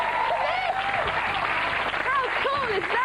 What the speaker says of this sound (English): Round of applause for Pat MacDonald